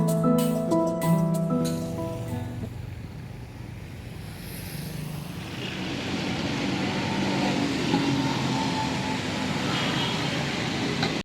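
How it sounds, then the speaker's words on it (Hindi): Heavy rain falls steadily on a stormy day, a dense continuous hiss that swells slightly in the latter half, following a brief burst of other sound at the start. "सो बड़ी ज़बरदस्त बारिश और बहुत खूबसूरत मौसम"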